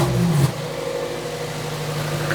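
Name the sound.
2006 Toyota Matrix engine revving, exhaust muffler check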